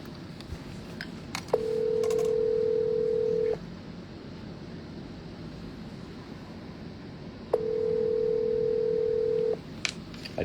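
A phone call to a client rings out: two long steady ringback tones about six seconds apart, each lasting roughly two seconds, with faint clicks and room hiss between them and no talking.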